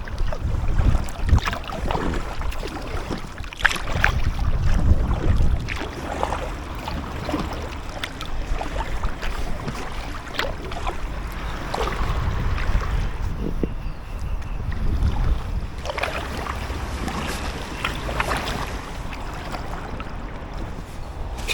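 An Aquaglide Deschutes inflatable kayak is paddled on a river from Boroughbridge toward York, with repeated soft paddle splashes and water swirl under steady wind noise on the microphone.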